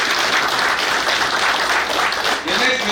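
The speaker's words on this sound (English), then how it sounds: "Please let's give him another round of applause." Loud, sustained clapping from a hall full of people at the Naval War College Nigeria graduation ceremony for Naval Warfare Course 9, dense and even, with some speech mixed in.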